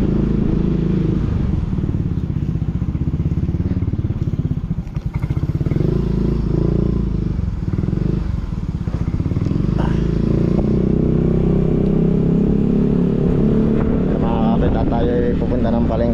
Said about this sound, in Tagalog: Nakisakay tayo kay Kabansot sa kanyang motor.